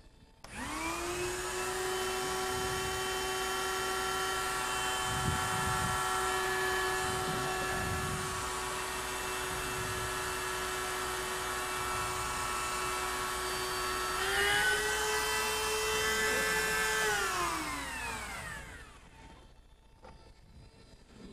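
A Dan Henry rose engine lathe runs with a loud, steady motor whine and dense tonal drone, rising in pitch briefly near the end before spinning down and cutting off, leaving near silence.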